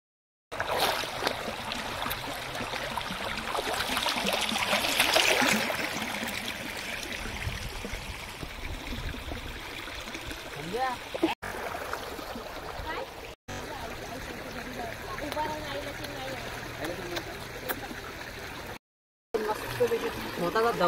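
A waterfall pours with a continuous broadband rush, loud and fairly close, with voices talking over the flowing water and a few brief dropouts.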